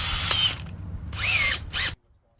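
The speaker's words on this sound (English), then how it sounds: "We're going to use a 1/4 inch bit to drill down into the basement." A power drill with a quarter-inch bit whirs loudly as it bores down toward a basement, with a brief pause and a final short burst before stopping abruptly.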